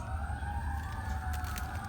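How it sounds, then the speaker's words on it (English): Emergency vehicle sirens wail across a residential neighborhood, a rising and falling tone heard from a distance over steady low traffic rumble, with no one speaking. "Hearing lots of sirens in my neighborhood."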